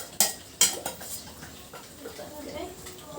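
Utensil stirring malunggay leaves into a cooking pot, two sharp metallic clinks near the start, followed by softer scraping and clatter, close and moderately loud.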